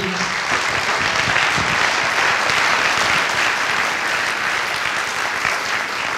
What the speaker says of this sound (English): let's have another round of applause for Hedrick, but also for the committee